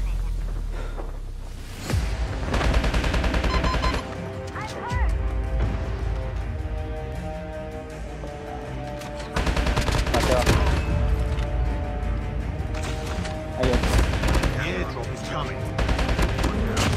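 Two squads trading fire in the mobile shooter Call of Duty Mobile, with sustained bursts of automatic gunfire rising and falling in loud clusters over game music, while someone talks throughout.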